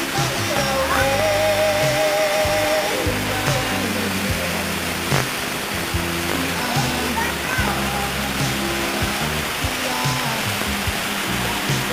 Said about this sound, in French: La douche.